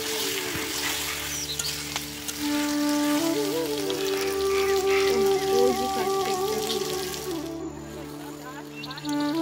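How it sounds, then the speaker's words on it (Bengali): Pork and potato pieces sizzle steadily in hot oil while being sautéed for an Indian-style pork curry, a continuous close frying crackle with occasional stirring and a voice talking over it. "আলুটা দিয়েও কিন্তু আমি সেমভাবে কষিয়ে নেব 5 থেকে 6 মিনিট ভালো করে।"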